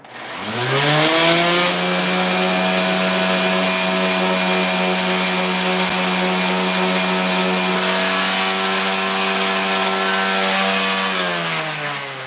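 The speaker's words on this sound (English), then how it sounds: "Maybe we'll go back to the old dinosaur powered sander here." An old, worn power sander grinds steadily against wood in a garage, a loud sustained motor whine with a droning harmonic buzz that spins up, holds for about ten seconds and winds down, with no talking.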